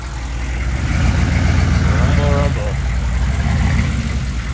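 GM 6.5 turbo diesel Suburban with a straight exhaust idling nearby, a loud, rough low rumble that swells slightly and holds steady, with people talking over it.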